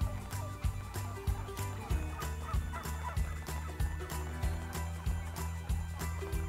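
Turkeys on an organic farm gobble repeatedly, a loud flock of rattling calls with regular sharp bursts throughout, close and unaccompanied by talk.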